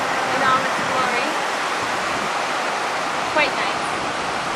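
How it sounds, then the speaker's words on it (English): Indian Ocean surf at Tiwi Beach on the south coast of Mombasa, Kenya, a loud, continuous broadband wash of waves that fills the whole clip with a few faint higher sounds on top. "This is the Indian Ocean in all its glory."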